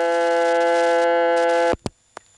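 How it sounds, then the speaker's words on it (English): Power supply noise on the line of the Braselton 654 telephone exchange, a loud steady buzzing hum that cuts off abruptly, then a couple of sharp clicks in near silence. "This office, Braselton 654, has some interesting power supply noise."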